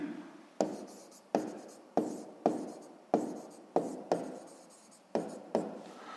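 A pen scratches out a sixth-grade math solution on paper, with a quiet, close series of about eight stroke attacks, each fading before the next, and no voices.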